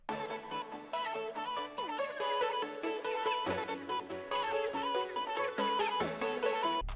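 A full hyperpop glitchcore beat plays with all parts stacked together, bright synths and chopped vocal lead over booming low end, dense and loud throughout with no talking.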